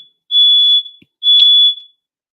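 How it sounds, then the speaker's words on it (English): Two loud, sustained high-pitched smoke alarm beeps, each lasting about half a second, separated by a short gap. "Smoke alarm going off."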